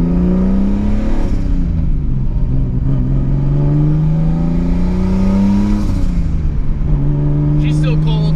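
A cold Nissan 240SX engine idles and hums steadily with a low droning tone that rises and dips slightly, close by, with faint clicks near the end.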